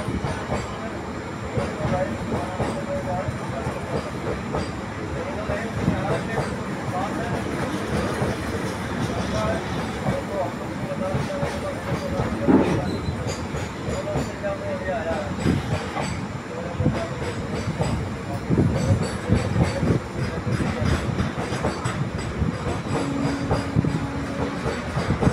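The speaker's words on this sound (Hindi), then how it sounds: "मेन लाइन से एक कंटेनर स्पेशल ट्रेन निकलती हुई।" A container special train runs through on the main line at Rajpura railway station, its wagons producing a steady, loud rumble and rail clatter that continues for the whole stretch without pause.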